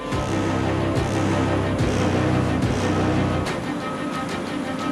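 Orchestral film score from Tenet's plane scene, a dense, loud texture of sustained low tones with repeated sweeping low swells and bright accents, playing continuously without voices.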